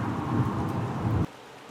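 Heavy thunderstorm rain with a low rumble of thunder in Leicestershire, UK, a steady loud roar that cuts off abruptly near the end.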